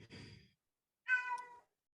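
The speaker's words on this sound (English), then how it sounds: "Was that your cat?" A house cat named Gunther gives two short meows, the first soft and breathy, the second a clearer, tonal cry after a brief pause, faint and alone in a quiet room.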